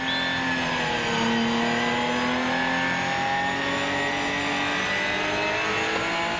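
Ginetta race cars launch off the start at the Red Bull Ring, a loud, continuous roar of engines revving and accelerating together, with no voices.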